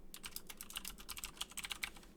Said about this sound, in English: I'm just typing pseudocode here.